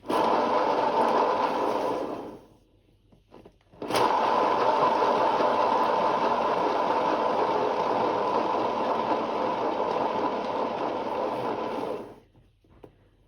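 A motorized paint spinner whirs steadily as it spins a painted oval bloom, runs for about two seconds, stops briefly, then starts again and keeps a continuous loud hum for several more seconds.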